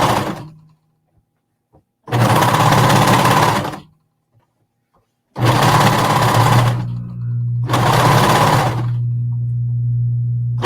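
A sewing machine topstitching fabric runs in three bursts of rapid, steady stitching, close and loud, separated by short quiet pauses with faint handling sounds.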